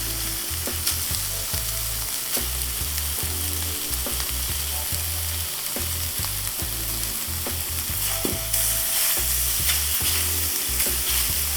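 Beef seasoned with salt and pepper frying in a hot pan, a loud continuous sizzle with occasional stirring scrapes and clatter throughout, no voices.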